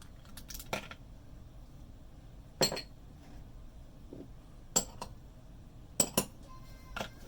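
Sporadic clinks and clatters of items set into a bowl, a few sharp knocks among quieter rustles, close by in a quiet room with no speech.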